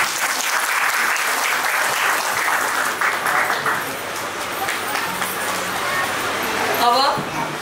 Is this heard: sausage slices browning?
no